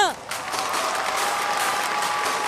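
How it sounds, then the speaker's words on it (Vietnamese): An audience applauds after a man dances to music in front of a crowd at a children's belly dance show, with steady, dense clapping filling the space after a brief opening burst. "Vỗ tay nào."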